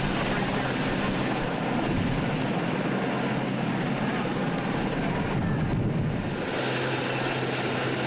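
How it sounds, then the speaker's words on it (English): Broadband rotor and engine roar of a search and rescue helicopter runs steadily throughout, loud and close, with faint voices underneath. "A search and rescue helicopter arrived and used a long line to bring the man to safety."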